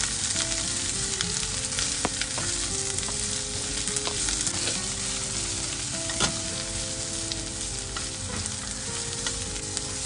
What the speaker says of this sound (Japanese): ニンニクからいい匂いがしてきたら、きゅうりをどさっと入れて